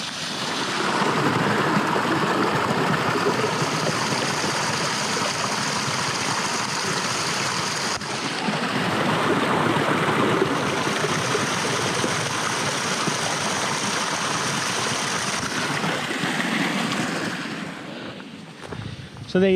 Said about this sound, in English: I can hear running water again.